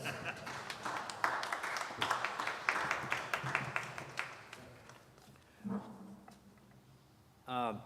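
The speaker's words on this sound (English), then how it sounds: "So give Adam a round of applause." A church congregation claps during a Sunday service, a moderate scattered round of applause that fades out, followed by brief voices and a short swell of sound near the end.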